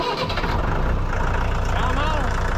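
A tractor engine turning over and catching, a loud close rumbling churn that holds steady throughout without any voices.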